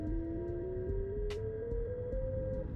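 A fretless, keyless instrument plays a scale of sustained notes, one after another, rising steadily in pitch, over a faint background hum, with light taps or clicks marking each note change.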